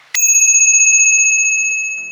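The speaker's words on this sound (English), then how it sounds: "And Priority also makes a bell that's quite nice, right here. And it is kind of loud." A Priority bicycle bell on a 600X adventure bike gives one loud, bright ring that sustains and slowly fades over about two seconds, heard alone and close.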